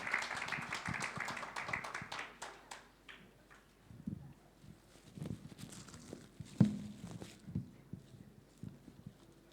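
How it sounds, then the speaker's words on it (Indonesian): A Christmas and New Year gathering of a magazine's staff claps for the next speaker, a fairly faint spread of clapping that thins into scattered claps and taps in a reverberant hall. "Kita beri tepuk tangan."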